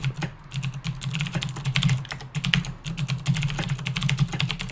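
Rapid, steady typing on a computer keyboard as search phrases are entered, dense clatter of keystrokes close up with brief pauses and no talking.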